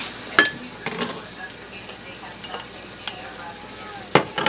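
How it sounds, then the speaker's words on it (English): Sliced peppers for fajitas sizzle steadily in a hot pan, with occasional clacks of a utensil stirring against the pan, close and continuous. "Time to add the peppers back in."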